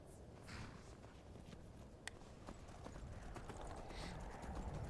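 Steady clip-clop of horse hooves from the video game Skyrim, fairly close and rhythmic over a low ambient rumble, with a sharp click near the middle.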